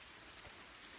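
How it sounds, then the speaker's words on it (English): Steady rain falls during a thunderstorm in southwestern Michigan, a soft continuous hiss with a brief brighter patter midway, fairly faint and heard alone. "Well, the rain's picked up a bunch now."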